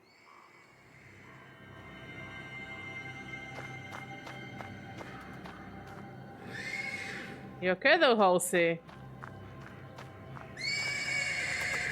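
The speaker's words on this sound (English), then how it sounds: "The persistent neighing of a horse can be heard from the stables." Horse in the stables lets out a loud, shaky whinny midway, with a fainter call and light hoof clops around it; a person speaks briefly over faint background sound.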